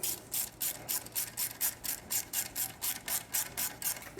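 A 5mm hex ratchet clicks in a steady rapid rhythm while tightening the exhaust clamp bolt on a Triumph Street motorcycle's carbon slip-on exhaust, about fifteen crisp close ratcheting bursts, fairly quiet, with no talking.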